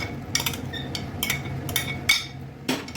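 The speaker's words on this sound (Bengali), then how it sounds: "এর মধ্যে এবার আমি ভেজে রাখা এই যে ভেজে রেখেছিলাম যে পনিরগুলো, সেগুলোকে আমি এর মধ্যে এবার দিয়ে দেবো" Fried paneer pieces dropped into gravy in a cooking pan, with a few soft clinks and scrapes of a spoon against the pan, quiet and close, with no talking.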